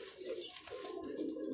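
Domestic pigeons kept by a pigeon fancier coo softly and continuously at close range, with low throaty rolls repeating throughout and no talking.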